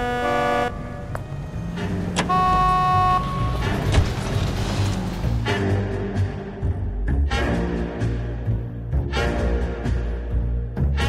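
Car in L.A. Noire drives through traffic with a steady engine rumble and road noise, while several horns toot at irregular moments above it.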